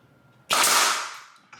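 A nail gun fires into shiplap boards on a ceiling: one sharp, loud crack that fades over about a second, followed by a fainter click.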